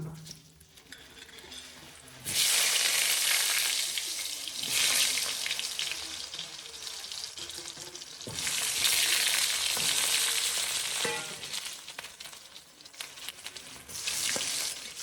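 Potatoes frying in a pan with cumin seeds for a Bengali cabbage and fish-head curry, loud bursts of sizzling that swell and ease off with stirring, close and continuous.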